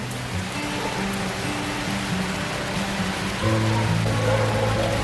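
Steady rain hisses evenly across the whole stretch, growing slightly louder near the end, with a faint low hum underneath.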